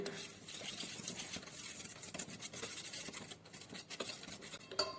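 Ghee and curd being stirred by hand in a bowl for a rava sponge cake, a steady wet scraping and patter that runs close by for the whole stretch with no voices.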